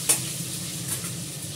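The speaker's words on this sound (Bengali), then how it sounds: "আলুটাকে ভেজে নেবো।" Hot oil sizzles steadily as potatoes for biryani fry, with a sharp spoon tap at the start and soft stirring scrapes through the short stretch; no one speaks.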